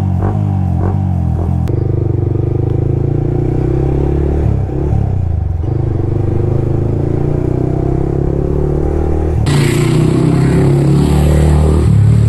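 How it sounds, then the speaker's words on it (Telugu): A Yamaha R15 motorcycle fitted with an aftermarket silencer exhaust idles and revs steadily and loudly close by, its engine note rising sharply near the end. "ఇది ముందు బ్లాగ్లో తీసుకెళ్ళిన R15, కానీ లాస్ట్ బ్లాగ్లోనే ఈ సైలెన్సర్ ఉంటే"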